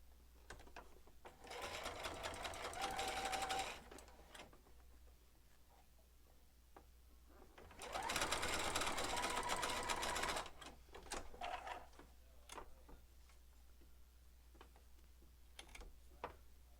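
Sewing machine stitching a quilt block, running in two steady bursts of a few seconds each with quieter handling and faint clicks in between.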